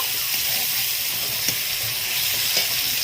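Tomatoes hit a snakehead murrel fish curry in a pan over a wood fire, giving a steady close sizzle and hiss with a few faint clicks from the pan.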